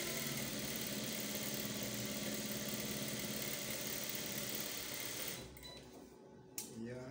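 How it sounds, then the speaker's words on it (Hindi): A sewing machine stitches a collar in white thread, running with a steady, continuous mechanical whir that fills most of the stretch and then trails off near the end, leaving a couple of soft clicks. "तो चले अब इसको सिलाई लगाते हैं।"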